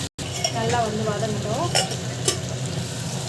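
Masala with chili powder sizzles and is stirred in a pan, a steady close frying hiss with spoon scrapes and light clinks against the metal, joined briefly by a faint voice.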